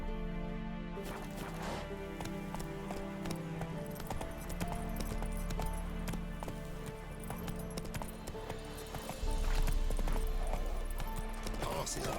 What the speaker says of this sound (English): ¡El puto caballo!